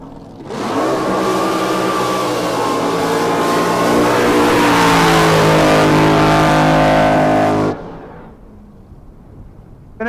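A top alcohol flat bottom drag boat races past at an El Reno, Oklahoma drag boat event, its engine roaring loud and sustained for several seconds with a slowly shifting pitch, then cutting off abruptly to faint background noise.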